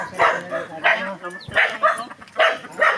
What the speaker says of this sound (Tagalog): Grabe aso dito, dami.